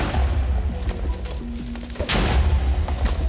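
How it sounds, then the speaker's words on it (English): A rusty bomb dropped from a deployer explodes in Minecraft with the Create mod, a dense booming blast with rumbling debris that keeps crashing on through the whole stretch. "We literally just bypassed the protection here by dropping one of these rusty bombs out of the deployer."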